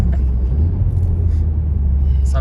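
A Honda Civic Type R, rated at 380 hp, drives with a loud, steady low engine rumble and road roar from inside the cabin, with faint turbo whistle traces on top.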